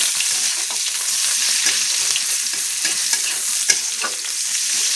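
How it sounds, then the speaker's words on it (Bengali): Chopped onions frying in a pan for a prawn curry, a loud continuous sizzle with constant crackle and stirring scrapes throughout, heard alone with no talking. "পেঁয়াজ কুচিটা লাল লাল করে আমি ভাজা করে নেব"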